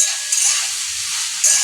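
Salted shredded cabbage is stirred in a hot pan, giving a loud, steady hiss and sizzle with brief scraping surges as the spoon moves through it.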